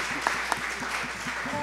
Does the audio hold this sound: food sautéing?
no